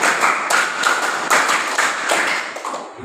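A group claps hands in a rhythmic counted pattern during a teacher coaching session, with several sharp, close claps spaced in steady bursts and no talking over them.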